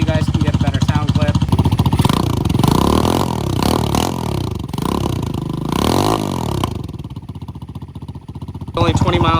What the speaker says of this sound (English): we'll do a couple revs here, and maybe you guys can get a better sound clip